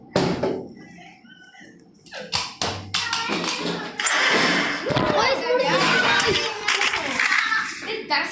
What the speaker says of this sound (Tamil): திறந்துட்டான்டா கதவை.